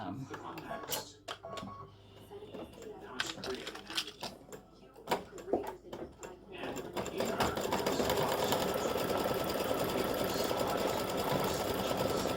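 Embroidery machine sewing stem stitches in medium green thread for the flower buds of a crescent moon design: irregular ticking and clacking at first, then a steady, dense mechanical whir.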